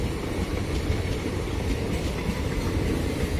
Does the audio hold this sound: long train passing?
yes